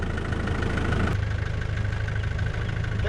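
A vehicle engine running steadily with a loud, constant low rumble while a back wheel spins in mud on a rain-soaked track near Mavora Lakes, the drone holding without clear revving peaks.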